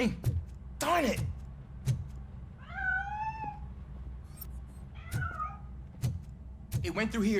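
A cat meows several times in short rising and falling cries, interspersed with sharp knocks and scuffles, fairly close and clear, in the video game RoboCop: Rogue City.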